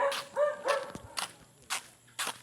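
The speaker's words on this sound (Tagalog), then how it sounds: "ang madaming mga aso ay nagsitahulan. Tahol-tahol." Several dogs bark in short bursts, some near and some farther off, with a few yips between the barks and no talking.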